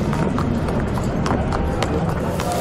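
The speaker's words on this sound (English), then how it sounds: "the horses move from the stables to beneath the grandstand" Racehorses at Dubai's Meydan racecourse walk from the stables toward the grandstand, their hooves clopping steadily beneath a dense wash of crowd and ambient noise.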